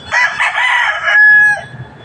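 A fighting cock crows once up close, a loud, harsh cock-a-doodle-doo that rises and then draws out into a long held final note.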